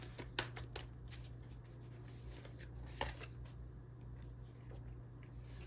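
Tarot cards shuffled and drawn: soft riffling and sliding with a few sharper flicks and snaps, close but quiet over a low background hum, no talk.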